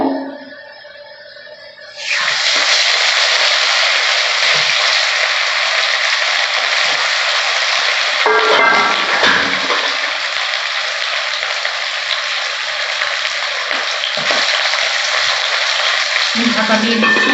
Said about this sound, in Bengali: বাকি মাছ কটা আমি এইভাবে ভেজে নেব।